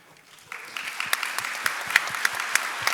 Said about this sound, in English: Please, a round of applause for this amazing panel.